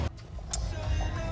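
Lagos road traffic rumbles as a low steady drone of car engines heard from inside a vehicle, with a brief click partway through.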